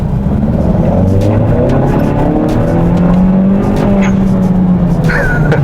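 A Kia K3 with about 240 horsepower accelerates hard, heard from inside as a loud, close engine drone whose pitch climbs and settles, with a faint tire squeal near the end.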